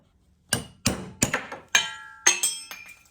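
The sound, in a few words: hammer striking chisel to loosen bearing cap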